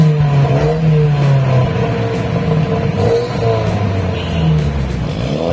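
A modified car fitted with an upgraded four-outlet exhaust revs steadily and loudly up close, its engine note rising and falling in a continuous throaty drone with no talking.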